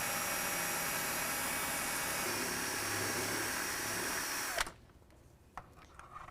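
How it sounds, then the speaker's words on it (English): A power drill boring a 1/8 inch pilot hole into a step bracket on a 2017 Ford F-250 whines loudly and steadily for several seconds, then cuts off abruptly, leaving a few faint clicks and handling noises. "You just want to drill your pilot hole."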